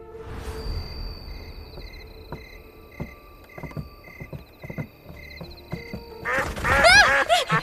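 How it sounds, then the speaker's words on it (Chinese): Ducks quack in scattered bursts over a quiet background with a faint steady tone, building to a louder cluster of quacks near the end. "我在陶艺家门口的河边看见了几只鸭子"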